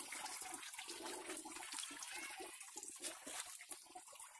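Water runs steadily from a spout into a pond in a village garden at the foot of a mountain, a continuous close splashing and gurgling stream with no voices.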